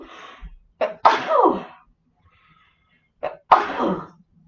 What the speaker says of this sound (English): Apparently with 3 sneezes